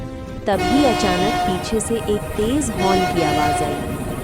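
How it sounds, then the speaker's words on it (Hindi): A loud, sustained horn blast sounds abruptly and holds, with a wavering voice-like tone riding over it. "तभी अचानक पीछे से एक तेज हॉर्न की आवाज़ आई।"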